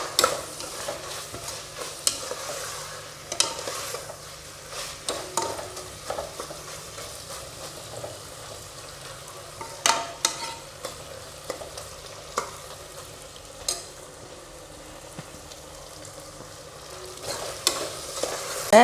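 Onions and green chillies sautéing in a pan for mushroom biryani: a low continuous sizzle broken by repeated spoon scrapes and knocks, close and unhurried, with no voices.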